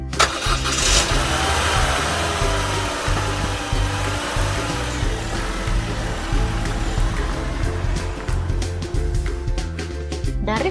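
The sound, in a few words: car and motorcycle engines in a classroom video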